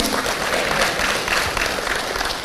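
A church congregation claps steadily throughout, a dense, continuous wash of many hands applauding with no voices standing out.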